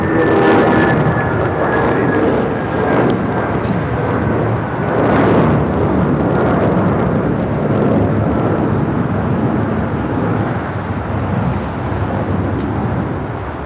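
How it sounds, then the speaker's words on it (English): A Japan Airlines Boeing 787-9 Dreamliner on its takeoff roll at LAX gives a loud, sustained jet roar with broad rushing noise that swells and holds, heard from a distance with no talk. "Next departure is Japan Airlines flight 69 taking off to Osaka on a 787-9 Dreamliner."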